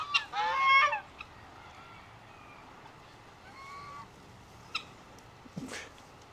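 Geese honk loudly in a burst at the start on a ranch, then a few scattered, fainter honks follow over a quiet outdoor background.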